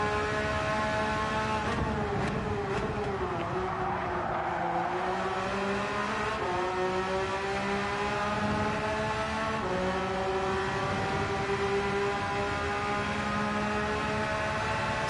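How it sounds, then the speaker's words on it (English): A racing car engine in Gran Turismo 7 drones and whines steadily, its pitch rising and falling through gear changes, loud and continuous with no talking. "Sounds good as well, this car."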